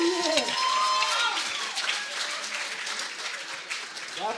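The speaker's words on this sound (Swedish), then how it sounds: "En stor applåd" Crowd applause at a rock band competition final rises as a performer is introduced, loud and sustained with some cheering mixed in, a brief tonal whistle-like sweep at the start.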